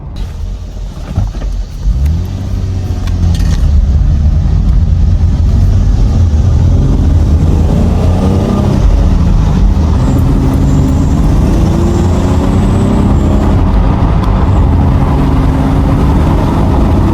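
V6 Camaro fitted with a cold air intake and throttle body spacer, heard from inside while driving: a loud, steady low engine drone with rising and falling revs as it accelerates on the road.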